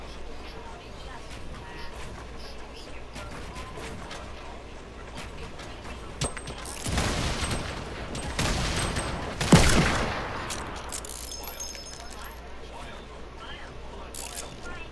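Gunfire in the video game Fortnite, with scattered shots and mechanical clicks over game ambience and a louder burst of firing near the end, with talk underneath.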